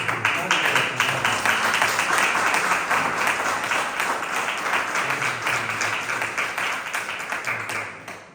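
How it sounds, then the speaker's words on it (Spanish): A church congregation applauding during a service: a loud, sustained wash of clapping lasting several seconds, with voices and a low tonal hum mixed underneath, tapering slightly at the end. "Dale un fuerte aplauso a nuestro Señor."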